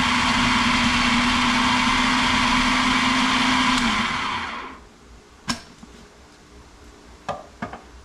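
A food processor whirs steadily as it chops a large batch of onions for Roma tomato salsa, then winds down to a stop at about four seconds, followed by a few faint knocks and clicks.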